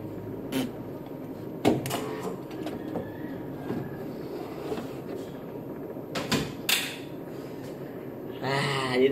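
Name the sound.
tarpaulin printer printing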